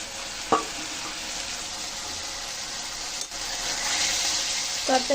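Flat beans fry in a pan while being stirred, a steady close sizzle with a few scraping knocks of the utensil and a brief watery hiss near the end.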